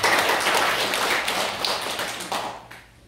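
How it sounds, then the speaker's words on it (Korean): Audience applause at a company presentation, a brief burst of many hands clapping that fades out after about three seconds, no talking. "박수 한번 주세요"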